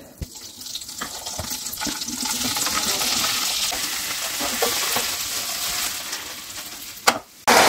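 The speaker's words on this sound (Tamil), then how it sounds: "இந்த கட் பண்ணி வச்சுருக்கிற பன்னீரை ஃப்ரை பண்ணிக்கலாம்." Paneer pieces fry in butter with a steady, close hiss and crackle that holds evenly for several seconds, then ends with a short clatter and an abrupt change near the end.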